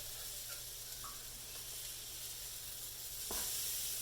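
Vegan French toast sizzles steadily in a hot pan on a stovetop, a continuous close hiss with a brief louder burst near the end as the slices are turned.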